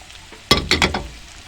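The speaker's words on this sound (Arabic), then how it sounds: "قلبناها كام تقليبه اهو" Small pieces of meat with garlic, pepper and onion stirred in a pan: a quick cluster of three sharp scraping strokes over a faint sizzle, close and brief.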